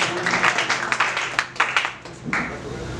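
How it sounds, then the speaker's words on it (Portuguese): Scattered clapping from a church audience at an evangelistic crusade service rings out in short, uneven bursts, loud and close, with no speech over it. "Pensei que você poderia aplaudir."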